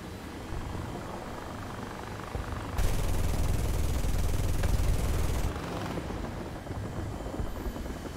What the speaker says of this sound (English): And there's also another helicopter over there.